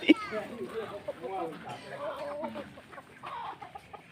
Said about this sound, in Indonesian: Banyak ayamnya kan?